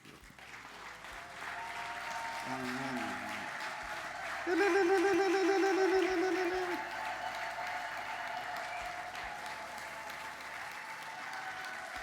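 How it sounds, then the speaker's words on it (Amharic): Applause from a congregation fills a church during a pastors' ordination service, a steady sustained clapping throughout with a brief tonal musical swell partway through and background voices. "ጭብጨባ ያንሳል ጭብጨባ ያንሳል"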